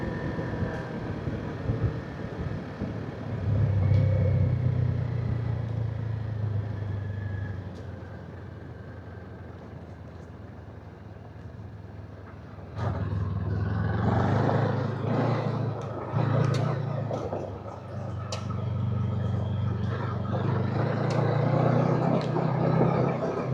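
Kawasaki KLE 500 SE motorcycle picking its way over slick slate on a Smoky Mountain trail, a low engine drone rising and falling in two long surges with wind buffeting and rattling over the top, no talk.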